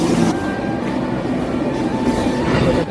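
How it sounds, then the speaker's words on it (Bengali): Passenger train pulling into a station, a loud continuous rumble of wheels and carriages close by, with faint squealing tones over the steady roar. "দেখতে পাচ্ছ ট্রেনটি ঢুকে গেছে।"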